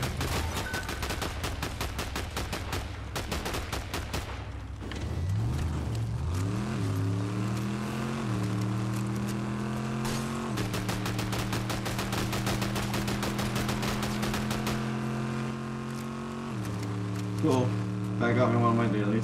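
Rapid automatic gunfire in the video game Fortnite, fired from a vehicle's mounted gun while an engine drones underneath, with dense bursts of shots running through most of the stretch and people talking over it.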